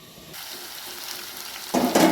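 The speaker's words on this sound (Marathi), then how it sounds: "आता आपण याच्यावर प्लेट ठेवूया आणि 2 मिनिटं वाफवून घेऊया बारीक गॅसवर." Ridge gourd (tinda) dry vegetable cooking in a covered pan on low gas, a soft steady sizzle that swells louder and brighter near the end.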